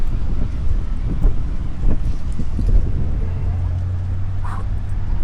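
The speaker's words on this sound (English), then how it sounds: "It's actually quite windy." Wind buffets the microphone beside a road in Barrio Trinidad, Medellín, Colombia, giving a steady, loud low rumble with gusty swells throughout and a faint background voice.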